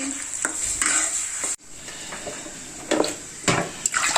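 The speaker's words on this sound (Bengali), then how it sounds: "তো তার জন্য যে কড়াইতে আমরা কি দিলাম দেখেন, পেঁয়াজ ফোড়ানি দিয়েছি।" Onions tempering in hot oil in a wok, with a steady sizzle under repeated scraping and stirring strokes of a utensil against the pan, close and moderately loud.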